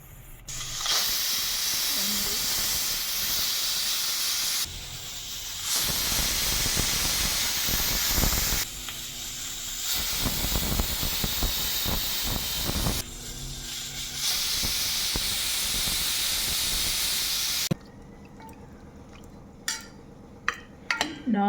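A pressure cooker cooking toor dal for vegetable sambar lets off loud, prolonged bursts of hissing steam, several in succession with brief pauses between, close by, then drops to a quieter stretch with a few light clatters.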